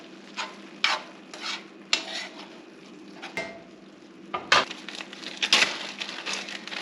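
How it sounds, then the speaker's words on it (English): Garlic being stirred into a pot of dinner made with home-canned meat and beans: irregular scraping and knocking strokes of a utensil against the pot over a faint low sizzle, some louder clattering toward the end. "I'm going to add a little garlic in there. And just mix this."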